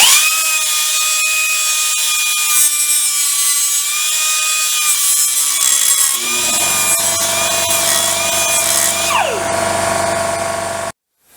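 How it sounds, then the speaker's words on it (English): A power tool whines loudly and steadily while an air compressor kicks on partway through and runs beneath it, adding a low droning hum before everything cuts off abruptly at the end. "Sorry about the compressor coming on there, as if the actual thing wasn't loud enough."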